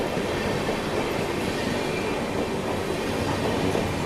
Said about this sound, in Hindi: north east express